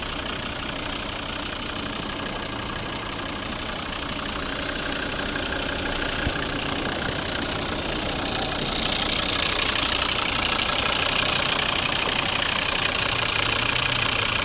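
The 2.0-litre five-cylinder diesel engine of a 2011 Volvo V50 D4 idles steadily and evenly, a continuous low rumble with a light knocking texture that grows slightly louder partway through.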